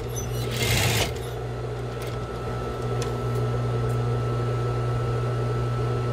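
A sewing machine stitches the small arms of a cloth rag doll. Its motor gives a steady, close hum, with a brief louder burst near the start and a few faint clicks, and no one speaks.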